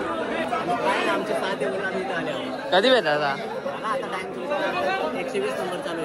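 Crowd at the Gavdevi temple, a steady hubbub of many overlapping voices, with a nearer person speaking briefly above the general chatter.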